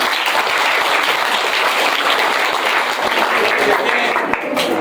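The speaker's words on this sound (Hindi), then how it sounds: "इसके लिए भी तालियां बजाएं।" Loud, dense applause from a crowd at a public gathering, continuous and close throughout the few seconds, a busy wash of many hands clapping with no break.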